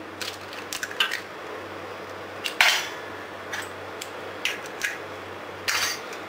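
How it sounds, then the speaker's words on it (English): Two eggs are cracked into a bowl for a chocolate walnut cake batter, heard as a few sharp taps and cracks, close but fairly quiet, amid small clicks and rustles in a hushed kitchen. "So for the batter, first the 2 eggs go in."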